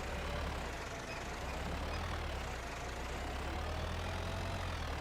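Tractor engine in Farming Simulator 25 drones steadily throughout, a constant low rumble with a broad noisy wash on top and no talking.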